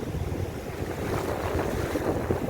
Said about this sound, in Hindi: ये देखो, ये पानी ऊंचा उठ के जो आ रहा है ये कहलाता है ज्वार।